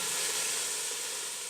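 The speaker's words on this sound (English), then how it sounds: "we're developing a nice brown on the beef" Beef pieces for stew sear and brown in a hot pan, giving a steady, close, dense sizzle that holds level throughout without pause or speech.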